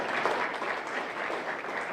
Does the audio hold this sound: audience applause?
yes